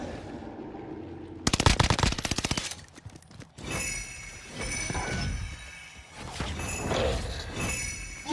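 Automatic gunfire from a Call of Duty Warzone Pacific match, a rapid loud burst of shots followed by scattered further firing and clinks amid game ambience, with no talking.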